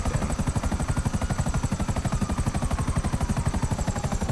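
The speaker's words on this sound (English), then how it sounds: "You got a helicopter out here" A helicopter in the video game GTA Online, its rotor thumping in a fast, even rhythm with a whining turbine behind it, loud and steady throughout with no talk.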